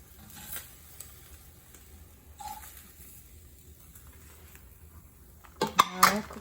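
Spam slices are moved onto a plate while making musubi, giving a few sparse clinks of cutlery on dishware over a quiet kitchen background, ending with a louder cluster of sharp metal-and-plate clatter.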